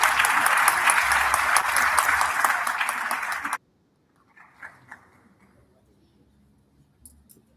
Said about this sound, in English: give Thokozani a round of applause